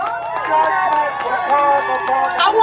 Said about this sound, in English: I just want you all to give yourselves a round of applause for being in this space today